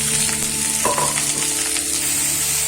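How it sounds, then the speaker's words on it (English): Thinly sliced onions hitting hot oil in a pan for onion chicken, a loud close crackling sizzle with a brief clatter of the spoon partway through. "When the oil gets heated, add thinly sliced onions"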